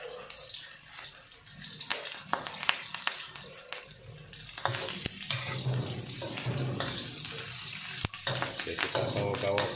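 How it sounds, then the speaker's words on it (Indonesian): Onions stir-fried until golden for a mamak-style chicken curry with curry leaves, a steady sizzle with scraping stirs and occasional sharp clinks, moderately loud throughout. "Gaulkan sampai bawang tumis kita kekuningan."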